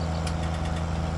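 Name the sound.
Fendt Trisix tractor engine in Farming Simulator 19 video game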